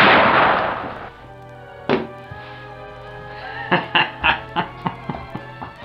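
Sharp gunshot-like bangs ring out, one at about two seconds and then a rapid run of six or seven shots in a steady rhythm, close and loud over a continuous low hum.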